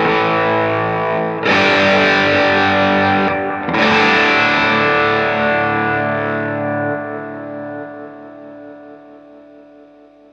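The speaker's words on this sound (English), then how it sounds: "Let's put on a little bit of analog delay with that one." An electric guitar played through an analog delay effect on a G3 switching rig, sounding loud and distorted, with two strummed chords that ring out and decay slowly while echoes smear the tail.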